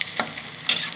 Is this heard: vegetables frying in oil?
yes